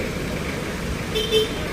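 Street traffic at a jammed corner after a truck crash in the Philippines, a low steady roadway rumble with a couple of short car horn toots near the end.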